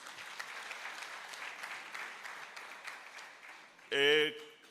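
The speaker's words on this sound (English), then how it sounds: "We can give ourselves a round of applause." A large hall crowd at an ANC provincial conference applauds in a dense, steady patter of clapping that carries on for several seconds, then a short, louder burst of voice cuts in near the end.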